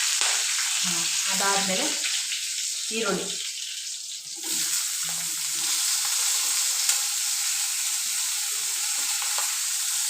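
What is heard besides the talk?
cumin and curry leaves spluttering in hot oil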